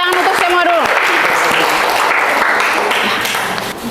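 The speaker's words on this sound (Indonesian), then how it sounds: "Tepuk tangan untuk semua dulu." Classroom applause from students after group presentations, loud, dense clapping that holds steady for several seconds before easing off slightly at the end, with a few voices mixed in.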